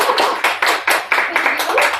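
Audience applause welcoming host Melyssa Moniz at a mastermind event, a burst of clapping from a live crowd with uneven loud pulses, mixed with some voices.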